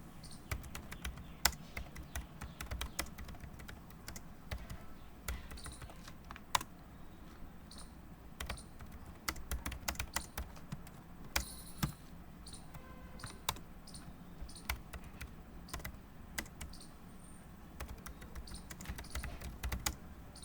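Steady typing on a computer keyboard, close and moderately quiet, with irregular bursts of key clicks and brief pauses running for about twenty seconds, plus the odd louder keystroke.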